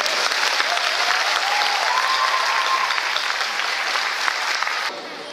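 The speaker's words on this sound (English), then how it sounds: "Let's give a big round of applause for our team's finalists." Loud, sustained audience applause for finalists at a K-pop festival in Fiji, thick and continuous for about five seconds, with a faint voice or tone drifting through before the clapping drops off abruptly.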